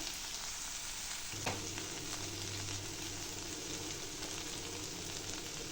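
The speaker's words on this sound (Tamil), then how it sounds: "இது நல்லா சிம்மில் வச்சே நான் ஃப்ரை பண்ண போகிறேன் அப்போ தான் நல்லா கிறிஸ்பியாக இருக்கும்" Okra fries on a low flame in a pan, giving a soft, steady crackling sizzle throughout, with one sharp clink early on, faint and close with no voices.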